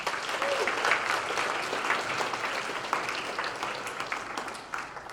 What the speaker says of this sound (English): Would y'all please join me in giving a warm round of applause to Lauren and her team